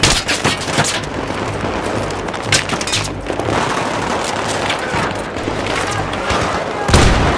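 An LMG machine gun firing in Battlefield 3 as sustained, loud bursts of rapid automatic fire mixed with booming explosions and cracks, steady and close throughout.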